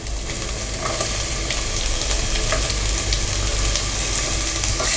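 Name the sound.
bay and curry leaves frying in pan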